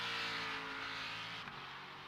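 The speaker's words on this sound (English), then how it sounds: "It does sound like someone tearing sheet steel apart, doesn't it, the Ford?" Raspy, harsh engine roar of a Ford race car in a Sebring sim racing round, loud and sustained, with the pitch dropping sharply as it shifts or lifts partway through.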